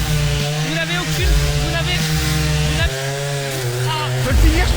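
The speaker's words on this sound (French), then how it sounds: "Démarre la tronçonneuse." A chainsaw starts up and its engine revs, the buzzing whine rising and falling in repeated bursts at close range.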